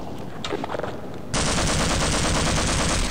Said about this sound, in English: Just headshot the Vortigaunt down there with the machine gun.